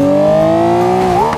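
A Porsche in BeamNG.Drive revs hard toward a hydraulic ramp, its engine note holding a steady loud whine that climbs sharply near the end, with no voices.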